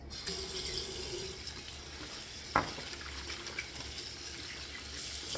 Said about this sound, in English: Let me rinse this brush off